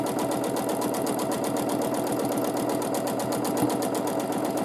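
Domestic sewing machine running steadily during free motion quilting on fabric, a fast, even mechanical stitching rhythm close up and continuous, with no talking.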